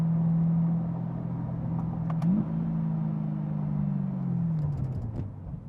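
A 2020 Corvette C8 rolls to a halt in Sport mode, its low engine and road drone holding steady with a slight pitch rise midway, then tapering as the car slows, with no talk.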